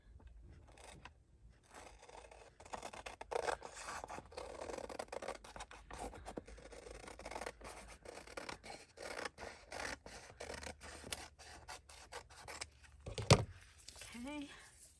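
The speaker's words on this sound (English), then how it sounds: "I am cutting the white line off because it gives me a chance to cut the white line off." Scissors cutting old wrapping paper close up, soft repeated snipping and rustling scrapes throughout, with a person talking quietly over it.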